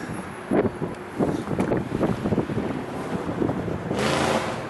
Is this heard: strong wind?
yes